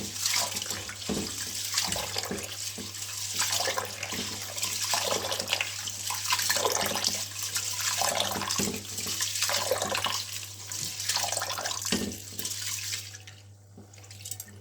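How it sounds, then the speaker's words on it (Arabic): Rice being washed under running tap water, a continuous rushing stream with swishing and splashing as the grains are stirred, fairly close and steady until it trails off near the end. "غسيل الميه، غسيل الرز"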